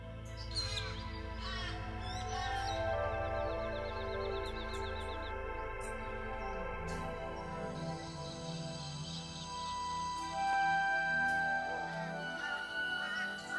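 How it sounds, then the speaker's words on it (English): Birds call along a quiet creek in a dry Australian outback campsite, with harsh caws and chirps near and far over a soft, still background. "There's a bit of bird life here."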